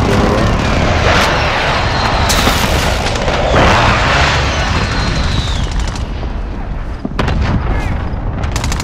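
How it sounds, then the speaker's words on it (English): Airstrike explosions in Call of Duty Warzone on Rebirth Island, a dense roar of heavy booms and rumbling blasts with gunfire layered in, loud and continuous, with sparse in-game voice callouts. "It's an airstrike."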